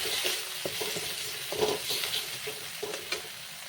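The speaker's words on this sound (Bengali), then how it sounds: "মশলাগুলোকে ভালো করে কষিয়ে নিচ্ছি" Turmeric, chili and cumin powder cook with a splash of water in a pan for stuffed pointed gourd, giving a soft, low sizzle broken by scattered spatula scrapes and taps.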